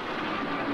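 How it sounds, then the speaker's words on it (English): A train running in a Twilight Zone episode, a steady broadband rumble and rushing roar that holds even throughout, moderately loud with no voices over it. "No, the train's still running."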